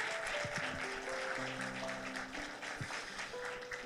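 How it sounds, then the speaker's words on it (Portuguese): Church congregation clapping together in a steady, dense wash of applause, sustained and fairly even, with faint organ or keyboard tones held underneath. "dá uma salva de palmas a Jesus"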